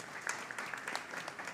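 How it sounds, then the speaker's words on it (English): A temple audience gives a short round of applause at a Sunday morning service at a Krishna Mandir, faint, scattered claps heard from a distance. "let's give him a round of applause"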